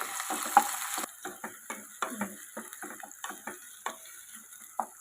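Garlic frying in oil for a gongura prawn curry gives a soft sizzle under a run of sharp, irregular taps and scrapes from stirring, the hiss dropping after the first second.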